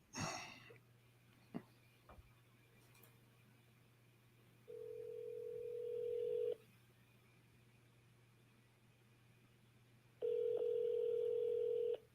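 Outgoing phone call ringback tone, two long steady electronic rings separated by a pause of silence, with a faint click and a breath near the start over a low hum.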